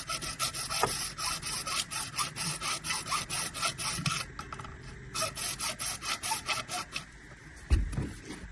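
Saw cutting through a large plastic drainage pipe that can't be clamped down, a steady rhythmic rasping of repeated strokes running close up throughout, with a brief knock near the end.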